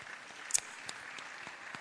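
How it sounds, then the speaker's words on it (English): An audience at a Trust Teens Conference 2025 panel session applauds, a short burst of soft, thin clapping heard from a distance, with a single sharper clap near the start. "I think she deserves a round of applause."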